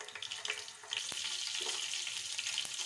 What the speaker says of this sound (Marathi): आता कढईमध्ये तेल टाकू आणि अर्धा चमचा जिरं मोहरी टाकायचं.